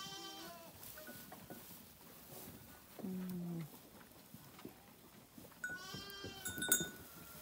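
Sheep bleat inside a village barn, including a ewe that lambed the day before, with several wavering calls near and far over a quiet shuffling background, the loudest around the middle and toward the end.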